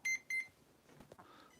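Two short, clear electronic beeps come from the gyro unit in an Axial SCX10 II RC trail crawler, followed by faint handling noises and quiet mechanical clicks close by.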